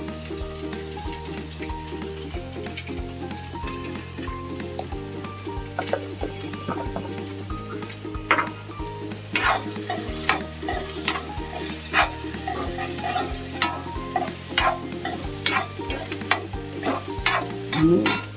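Spoon stirring peas frying in a pan for a Marathi-style pea dish, with turmeric and sugar going in; steady close sizzle with repeated scraping clicks and knocks, no talking.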